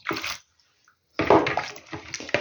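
Water is poured into a zucchini marinade in two splashing bursts, a short one and then a longer, gurgling pour, close up with a brief silent gap between them.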